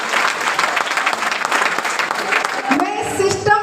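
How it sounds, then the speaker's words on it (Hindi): Audience giving a round of applause for a company head at a business meeting, a loud burst of many hands clapping that fades out toward the end as a voice begins. "तो जोरदार तालियां हमारे सीएमडी सर के लिए"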